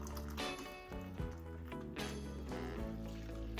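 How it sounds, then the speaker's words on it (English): Near-boiling water pours from a kettle into a baking dish of chicken and rice, a faint, continuous liquid splashing and gurgling with shifting tones, no voices. "Boiling water out of the kettle."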